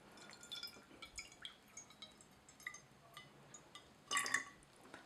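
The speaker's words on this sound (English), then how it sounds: "we're gonna take some water and we'll pour that in" Water poured from a container into a shallow dish for a surface-tension demonstration: a quiet, close trickle with small drips and light clinks against the dish, ending in a brief louder splash.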